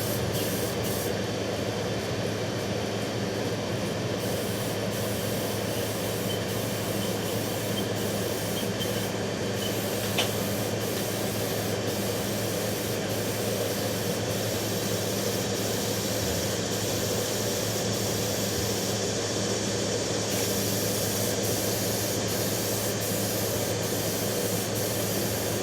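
A continuous close spray-paint hiss coats a motorcycle gas tank for a bobber build, steady and unbroken with only slight flickers as the nozzle pauses, with no talking.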